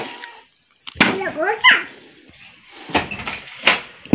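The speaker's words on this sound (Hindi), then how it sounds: "ये बस मेरी बेटी ने दरवाज़ा खोल दिया" A house door is opened, giving a few sharp clacks and a creaking scrape in a quiet room, with short gaps between the knocks.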